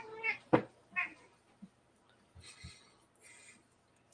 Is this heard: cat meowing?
yes